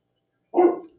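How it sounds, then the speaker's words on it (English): A dog barking at thunder, a single short close bark, loud and alone after silence. "that's my dog barking at the thunder"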